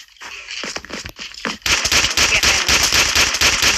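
Video game gunfire: a few scattered sharp shots at first, then a dense, loud rapid burst of firing that continues to the end.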